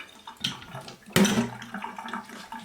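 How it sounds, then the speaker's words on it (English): Thirty-year-old Armagnac drips and splashes from a bottle into a sink, a few irregular close spatters with one louder gush in the middle. "I'm just gonna let it drip."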